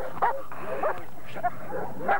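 A small dog gives short yips, barks and whimpers in a few scattered bursts at close range during an obedience training session, with quiet ambience between calls.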